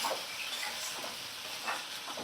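Ginger-garlic paste and cumin paste with spices are stirred in a hot pan over a medium flame, a faint soft sizzle with gentle scraping strokes and no voice.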